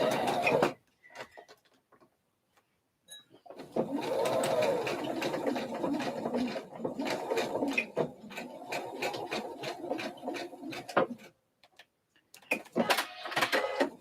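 A home sewing machine runs a continuous burst of stitching for about seven seconds on a slip dress, with softer clicks and short bursts around it and a few sharper mechanical clatters near the end.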